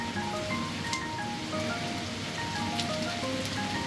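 Steady rain falls on a mountain road on the way to Chitkul during a motorcycle ride from Sarahan. It makes a dense, even hiss with scattered nearby drops tapping on surfaces.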